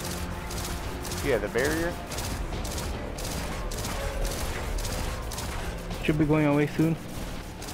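Sustained gunfire in Destiny 2, a rapid, steady fusillade of shots running throughout over dense game effects, with a player talking briefly over it.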